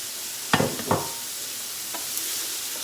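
Onions dropping into hot oil in a frying pan for a one-pot pork dish, with two quick stirring scrapes near the start, then a soft steady sizzle fading into the background with no talking.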